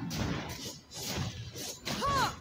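The mid tower in a Mobile Legends match gets destroyed, with a few crashing, shattering bursts layered over busy game effects, the loudest crash near the end.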